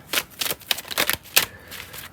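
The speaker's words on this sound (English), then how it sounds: "as I shuffle the cards here" Tarot cards being shuffled in quick riffling bursts, several rapid flurries of crisp papery flicks, close and clear with no voices.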